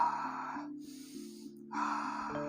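A person does a belly-breathing exercise for post-COVID recovery, taking slow, deep, airy breaths to inflate the abdomen, with two long breath sounds separated by a pause over a soft, steady background drone.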